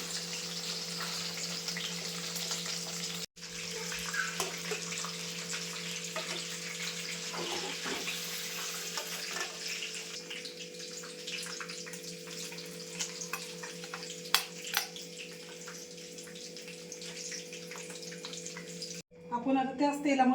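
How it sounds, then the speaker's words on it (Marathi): Paneer cubes frying in hot oil in a pan for a chilli paneer dish, making a steady close sizzle that goes on and on. It cuts briefly near the start and again near the end, where it sputters louder. "मस्त फ्राय करून घेऊया आपण हे।"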